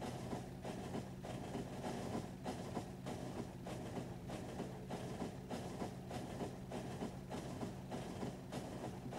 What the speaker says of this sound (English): I've got this train flying around with rocket fuel,